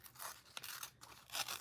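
Fragile book paper torn by hand for a pocket wrap, giving dry crackling rips in a few close bursts, with the loudest tear near the end.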